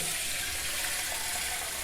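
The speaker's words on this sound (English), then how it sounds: "You put water in there." Water poured into a bowl, heard as a steady, even broadband rush of running liquid that continues without a break and with no voices.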